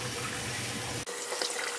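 Tap water runs steadily while shampoo is rinsed off a Maltese puppy during a bath, a close hissing stream that briefly breaks off about midway, then resumes with small splashes, without talking.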